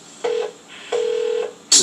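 Telephone keypad tones sound as a call is placed to someone's workplace: two clear beeps, one short and one longer, separated by a pause. A brief burst of a different tone cuts in at the very end, all heard plainly with no talking.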